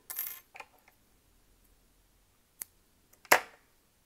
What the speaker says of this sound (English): And you can get rid of that with some scissors.